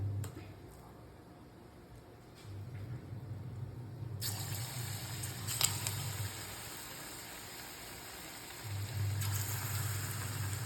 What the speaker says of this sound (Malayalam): അപ്പം നമ്മുടെ എണ്ണ ചൂടായിട്ടുണ്ട്. നമുക്ക് ഈ മാവ് ഇട്ട് കൊടുക്കാം.